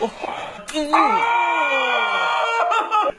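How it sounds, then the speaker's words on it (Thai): A person shouting loudly close by, a long strained scream with a rising then falling pitch lasting over two seconds, framed by brief vocal bursts. "นายจะตะโกนทำไมเนี่ย"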